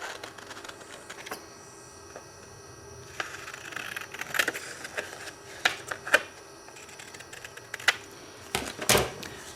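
Paper template cut out with scissors, giving faint, irregular snips and crisp paper rustles close by over a quiet background, with a few sharper clicks near the end.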